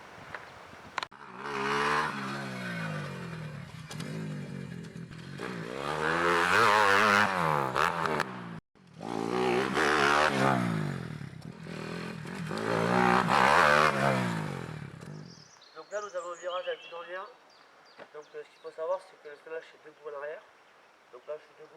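A motocross motorcycle engine revs hard in long rising and falling sweeps while riding and jumping, loud and close, then quieter, choppier engine bursts follow, with someone speaking French over parts of it.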